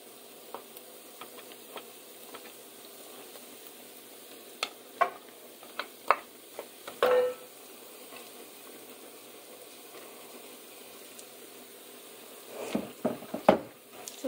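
Fried rice cooks in a pan during Indian home meal prep, a faint, steady sizzle broken by scattered clicks and scrapes of stirring, busier toward the end.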